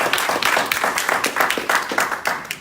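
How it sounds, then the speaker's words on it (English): An audience at a Gravatate presentation claps steadily, with dense, sustained applause throughout. "Let's give him a round of applause."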